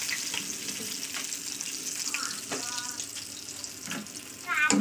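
Fried fish sizzles softly in a pan as pieces are lifted out, a steady hiss broken by a few clinks and brief voice sounds nearby.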